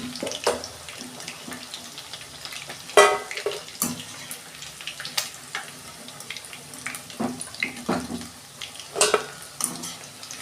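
Pakoras frying in hot oil in a home kitchen, a soft steady sizzle broken by scattered sharp crackles and spatters, with occasional clinks of a utensil, close and fairly quiet with no talking.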